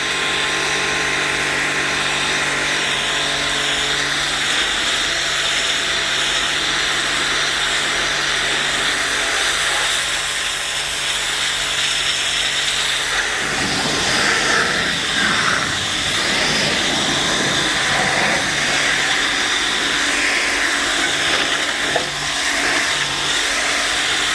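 A Ryobi 2500psi electric pressure washer sprays in a loud, steady, close hiss with a motor drone underneath, continuous for the whole stretch with a slight shift in texture partway through.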